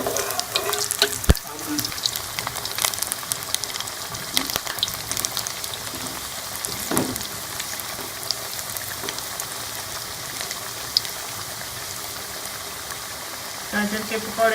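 Carrot pakoras (gajar pakoda) sizzle steadily in hot oil as they are flipped, with continuous crackling frying noise and occasional clicks and scrapes of a utensil, fairly close throughout.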